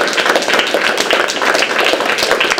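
An audience applauding after a talk, with loud, close and dense clapping made of many crisp individual claps that continue steadily without a break.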